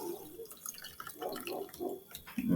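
Water drips and splashes in quick, uneven bursts as a sponge is squeezed out, close and fairly quiet, with a faint voice near the end.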